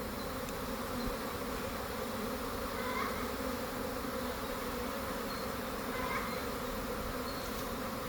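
A honeybee swarm pours into a swarm lure outdoors, a dense, continuous buzzing drone held close and steady with no one talking.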